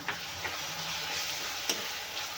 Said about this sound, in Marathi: आता घालूया आपण एक टोमॅटो बारीक चिरलेला